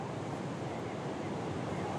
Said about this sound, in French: Même sur le rivage, les vagues fauchent tout sur leur passage.